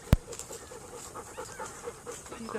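Dogs tired after a walk pant in quick, steady breaths close by, with a brief loud knock near the start and faint voices in the background.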